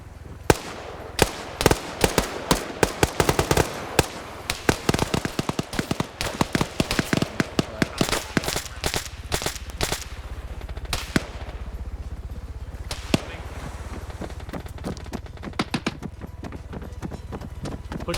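Long run of sharp, close gunshots in a multiplayer military video game, rapid irregular bursts for much of the stretch, thinning out toward the end over steady background rumble.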